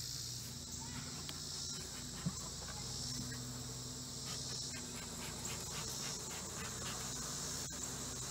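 Honey bees hum in an opened hive, a faint, steady, even buzz that runs through the whole stretch with a few soft scattered knocks, close but low in level.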